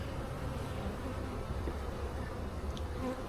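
A crowd of honeybees hums inside a nucleus hive, a soft, steady, continuous drone heard fairly close with no voices.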